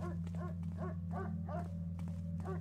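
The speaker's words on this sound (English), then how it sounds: "Dog barking." A dog in the Thief video game, heard in The Seven Sisters fan mission, barks over and over in an even rhythm, moderately distant, above a steady low ambient hum, with no talking.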